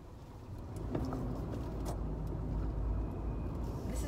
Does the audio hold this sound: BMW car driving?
yes